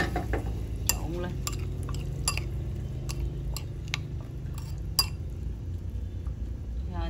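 Utensils stir steamed free-range chicken with scallion oil in a dish, producing irregular clinks and scraping taps over a low background hum, with occasional quiet speech.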